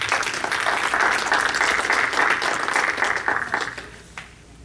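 Audience at a literary tribute gathering applauds to welcome the event's host to the stage, dense sustained clapping that stays full for several seconds and then thins out and fades.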